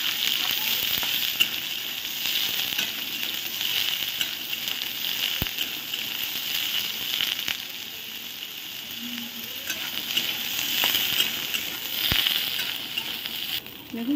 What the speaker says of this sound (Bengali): এবার আমি সোয়াবিনগুলো দিয়ে দিচ্ছি, সোয়াবিনগুলো ভেজে উঠিয়ে নিচ্ছি।